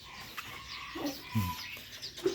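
Mixed-breed village chickens, a Chiang Phanat and Burmese cross, give soft, scattered clucks at close range against a quiet outdoor background, with no talking.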